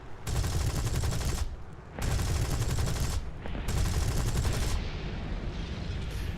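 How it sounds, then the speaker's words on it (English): Aircraft guns strafing ground targets in the War Thunder video game: long, loud bursts of rapid machine-gun fire in three or four strings with short pauses, dense and continuous over the drone of the plane. "before my bullets even hit the target, I'm going to start shooting at the next one"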